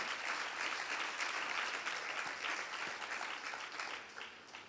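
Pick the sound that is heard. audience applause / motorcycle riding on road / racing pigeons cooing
audience applause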